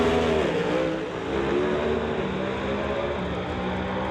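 Canada West Doorslammers drag racing cars, including a Pontiac Firebird, idling and revving at the staging line during qualifying: a loud, continuous, rumbling engine drone that rises and wavers slightly, close up.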